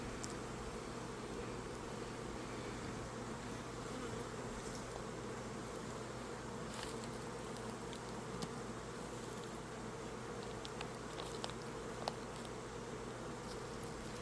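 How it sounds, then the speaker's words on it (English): Honey bees hum steadily around an open hive during an inspection, a faint, continuous swarm drone with occasional soft rustles and clicks close by. "I see a big drone male bee right here."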